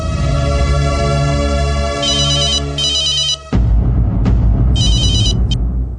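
A telephone rings loud and near in repeated electronic trills with short pauses, then keeps ringing over louder background noise.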